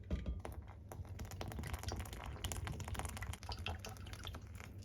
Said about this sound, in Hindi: अब हम इसमें पानी मिलाएंगे।